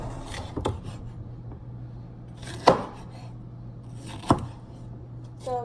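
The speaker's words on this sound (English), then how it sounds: "I'm going to take my green pepper, which I've already deseeded, and I'm going to chop it up coarsely." A knife chops deseeded green pepper coarsely on a board in a quiet kitchen, with a few sparse, distinct knocks spaced over a few seconds and a low hum underneath.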